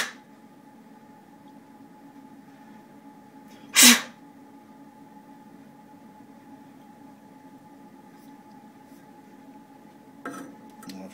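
A single short, sharp puff of breath blown into the holes of a gas burner that won't light, loud and close against a quiet steady hum, with a fainter rustle near the end.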